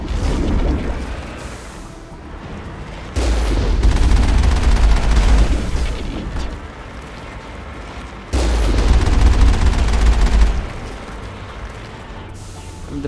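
In Mass Effect 1, a Geth Colossus fires in two long, heavy bursts, each a loud rumbling barrage of booming blasts, separated by quieter stretches of lighter background fire.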